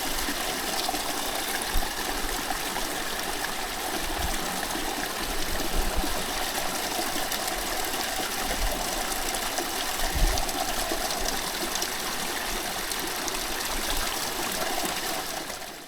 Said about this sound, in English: I can hear some running water